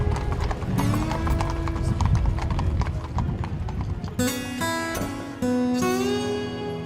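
Horses clip-clopping in a steady hoof rhythm, heard against a sustained tonal, music-like background that shifts near the end, with no speech.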